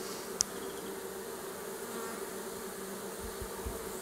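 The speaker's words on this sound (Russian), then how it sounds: "машут крылышками, выделяют феромон для привлечения пчел роя в то место, где рой зашел в улей" Swarm honeybees fanning their wings at a hive entrance, a steady faint buzzing hum throughout with a sharp click near the start, heard up close with no talking.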